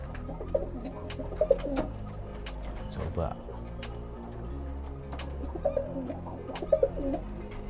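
Soft male pigeon cooing repeats a few times at close range over a low background hum, with some rustling and faint knocks, as he courts a new female.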